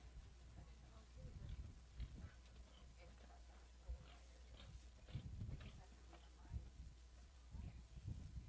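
Horses loping along the rail at a 4-H/FFA horse show, rhythmic hoofbeats thudding softly on the arena ground at a moderate distance, with a faint ambient background.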